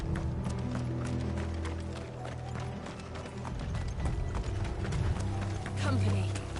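Horse hooves clop rapidly in a rhythmic gallop in the video game Final Fantasy XVI, alongside mechanical clanking and low rumbling, with a voice briefly audible in the mix.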